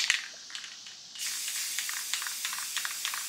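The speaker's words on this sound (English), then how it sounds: "I'm just gonna literally spray it," Aerosol spray paint hissing onto a tumbler as a purple base coat, a steady close hiss that swells louder after a quieter start, with faint intermittent clicks over it.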